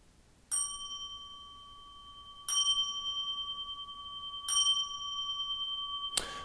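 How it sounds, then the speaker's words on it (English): A bell is struck three times at even intervals, each strike ringing clearly with a long, pure, slowly fading tone in a quiet room. "Right, 3 bells."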